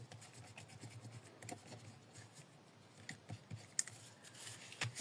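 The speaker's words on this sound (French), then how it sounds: "on va gommer avec ça." A pencil mark is rubbed out with an eraser in a quiet close-up scratching and rubbing, faint and uneven, with a few small taps against the paper and table.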